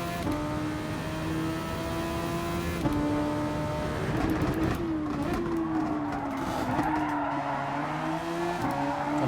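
Race car in a Gran Turismo Super Formula sprint race, engine note stepping down through gears while tyres squeal and skid, a continuous loud close drone with pitch dropping at each downshift.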